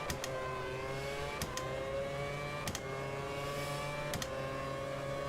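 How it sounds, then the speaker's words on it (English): A Formula 1 car engine from the 2011 season screams at a steady high pitch on Italy's Monza circuit in Automobilista 2, broken by four or five sharp cuts as it bounces off the rev limiter. "I can't really gain much here, even with DRS, because I'm hitting the rev limiter way too early"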